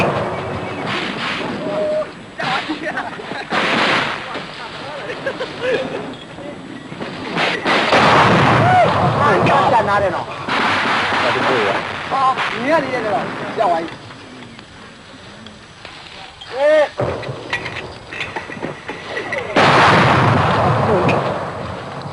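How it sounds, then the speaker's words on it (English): Artillery barrage on the Burmese front, 1982: repeated booming blasts and rumbling impacts rolling on throughout, with a narrator's voice running over the bombardment. "As suddenly as it began, the barrage ceases."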